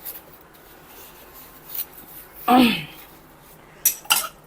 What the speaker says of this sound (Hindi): बर्तन धोते हैं।